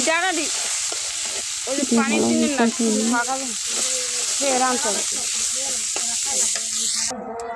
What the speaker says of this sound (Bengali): এমনি খালি খোলায় ভাজে নিছি